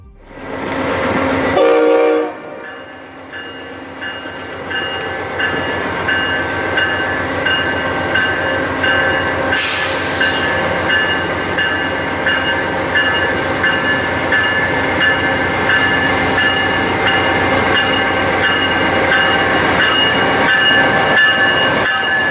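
An Amtrak passenger train rolls along the rails with a loud, continuous rumble and clatter of wheels. A burst of noise sounds near the start, then a brief hiss midway, and no one speaks.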